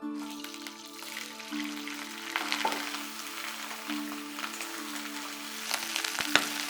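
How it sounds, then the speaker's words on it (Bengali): Cauliflower florets frying in hot mustard oil in a wok, giving a soft, steady crackling sizzle with occasional sharper pops, set against a faint sustained background tone. "কড়াইতে সর্ষের তেল গরম করে ফুলকপিগুলো দিয়ে দাও।"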